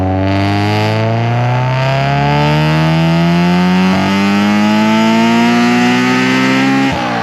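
Honda B18 engine in a Civic EJ9 revving hard toward about 9,000 rpm, loud and close, with the pitch climbing steadily through the pull and brief dips at the shifts.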